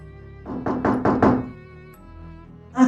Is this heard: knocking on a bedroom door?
yes